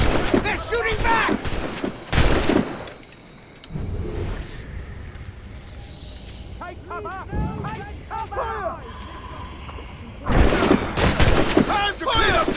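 Naval battle in the game Assassin's Creed Rogue: heavy cannon booms and scattered musket gunfire crackle in loud bursts at the start and end, with shouted voices and clattering action between.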